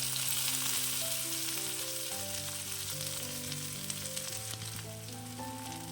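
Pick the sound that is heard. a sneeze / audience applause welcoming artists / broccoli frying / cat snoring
broccoli frying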